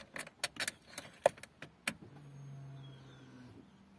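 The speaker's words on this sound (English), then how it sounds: "I want to hear the pump go on." Fuel pump on an Opel Corsa with the Z14XEP engine, which cranks but won't start, priming with a low steady hum for about a second and a half after a few clicks and clunks of key and ignition.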